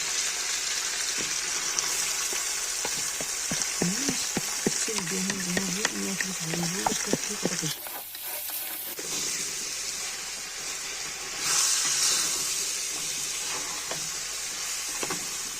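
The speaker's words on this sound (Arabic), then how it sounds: "ها اللحم ديالنا كيتقلى" Meat frying in a pan makes a continuous close sizzle and hiss with brief crackles. It drops away for a moment partway through, then returns, and a voice speaks over the first half.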